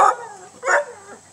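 Dog barking outdoors near a tiny homestead with chickens and garden, a few short separate barks or yips spaced apart, moderately close and loud, with no talk over them.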